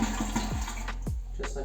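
A toilet being drained while its Fluidmaster wax-free seal is tested, with water rushing and gurgling in a steady close stream and a few sharp swirling sweeps through the bowl.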